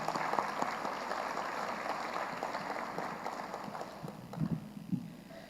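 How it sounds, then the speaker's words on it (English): Steady crowd applause at the Hispanic Women's Organization of Arkansas annual conference, a dense even wash of many hands clapping through the whole stretch, with a few louder low thumps near the end. "Please join me in giving them another round of applause."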